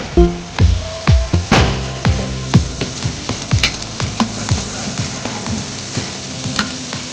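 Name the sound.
1.5 kg of big onions sizzling as they are fried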